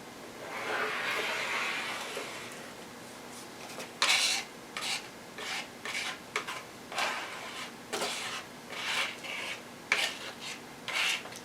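Glue spread across wood with a card spreader, an old credit card or hotel key, while building the sides of a harp: a soft scraping rasp in repeated short strokes, close and clear with no talk.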